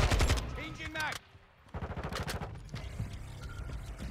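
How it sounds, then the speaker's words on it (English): Automatic AK rifle fire in the video game Modern Warfare 2, loud rapid bursts at the start and again midway, with game sounds and a voice mixed in. "We're using the AK, some machine gun."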